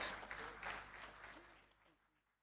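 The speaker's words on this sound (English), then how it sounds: "A round of applause" Audience applause at a regional top awards ceremony in St Lucia as a speaker walks to the podium, a dense crowd clapping that starts fairly full and gradually fades out over a couple of seconds.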